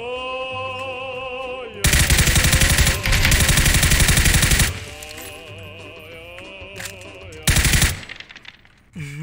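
Loud PUBG gunfire comes in sustained rapid automatic bursts, one long, one shorter and one brief near the end, over a tonal game background hum.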